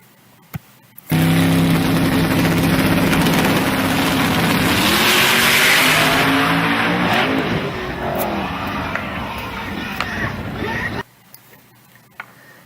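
A sports car racing on a circuit, its engine roaring loudly as it accelerates past with tire squeal, then fading into a lower engine drone before cutting off, under a faint bed of background noise.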